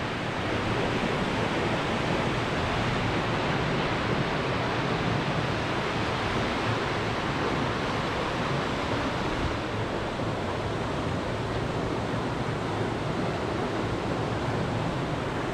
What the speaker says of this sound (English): The water's flowing so fast here.